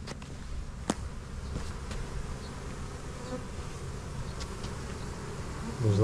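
Honey bees hum thickly around a big hive during almond pollination, a close, constant buzzing that swells slightly near the end, with no talking.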